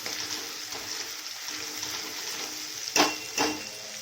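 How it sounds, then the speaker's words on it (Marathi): Garlic, ginger and onion fry in a pan for sambar, giving a steady, fairly quiet sizzle that runs throughout. Two sharper stirring scrapes stand out near the end. "याला आपल्याला लसण अद्रक आणि कांदा आहे ना हे थोडासा लालसर होऊ द्यायचा आहे"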